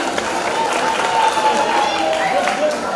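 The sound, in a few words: applause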